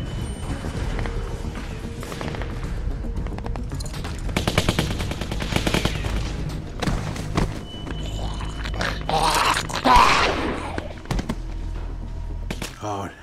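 Rapid machine gun fire in The Walking Dead Season 2 video game, bursts rattling over several seconds with shouting, a dog barking and growling, and other chaotic game sounds mixed in.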